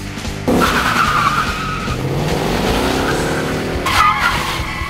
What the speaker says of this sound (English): Rev up your engines!